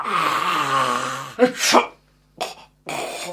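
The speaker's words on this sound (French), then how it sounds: "J'ai juste éternué, je t'ai même pas touché." A voiced, drawn-out build-up breaks into a loud, sharp sneeze burst, followed by two shorter breathy bursts, from an animated fantasy game-world scene involving goblin enemies in Shangri-La Frontier.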